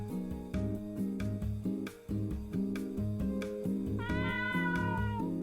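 A video game cat meows once near the end, a clear downward-sliding cry over steady looping background music that runs throughout; no one talks.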